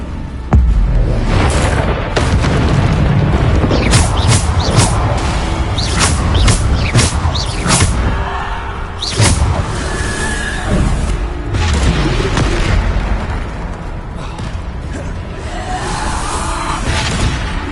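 Bombarda blasting spell explosions in Hogwarts Legacy, a dense continuous stretch of booming blasts, whooshes and crashes layered over loud game music and effects.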